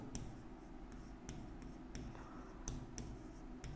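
A pen writing Hindi text by hand in a class lesson. Close, quiet strokes and taps come at an irregular pace over a low steady room hum.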